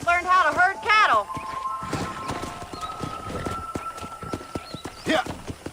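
Horse hooves clip-clop steadily through a ranch scene in the Western video game Red Dead Redemption, with a whinny near the start, a faint whistle-like tone, and occasional talk over the hoofbeats.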